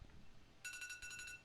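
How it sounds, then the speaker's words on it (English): An alarm clock goes off in two short bursts of bright, buzzing electronic beeps, each rich in harmonics and separated by a brief break, faint against low background hum. "Alarms are going off."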